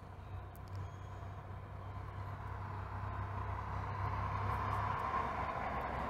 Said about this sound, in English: And that truck has a muffler.